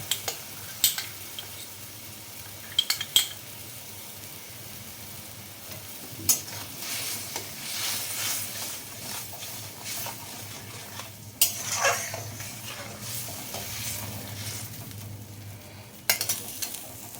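Mustard paste is added to a pan of frying spices for an ilish and brinjal jhol, with a soft continuous sizzle broken by repeated spoon scrapes and metallic clinks against the pan.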